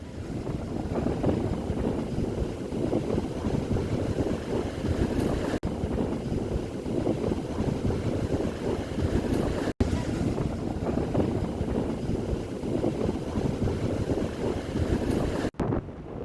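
Steady, roaring wind buffets the microphone over a broad wash of high surf, loud and continuous throughout with a few sharp clicks, at Lampu Beach, Lhoknga, Aceh Besar, Indonesia.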